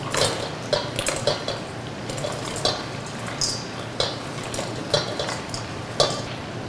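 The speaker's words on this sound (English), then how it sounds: "You can start adding everything into a bowl and mixing them together" Fried tofu and other poke ingredients being mixed in a bowl, with repeated close clinks and scrapes of a utensil against the dish in an uneven rhythm over a faint background hiss.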